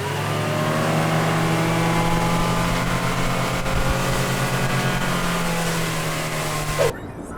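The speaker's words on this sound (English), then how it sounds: "now we're gonna go and just drive around" A car drives along a seaside route near Opatija, its engine giving a steady, close droning hum with tyre and road noise throughout, ending abruptly.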